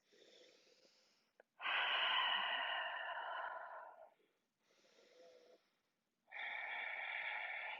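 Slow, deep breaths during a guided yoga stretch, each long inhale and exhale flowing steadily through the airway in four clear phases with short pauses between, close and audible, with no talk.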